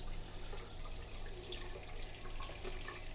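Hot water runs steadily from a sink tap in a cheap city-centre hotel room in Leeds, a continuous even hiss and splash that stays quiet and unbroken throughout, with no speech.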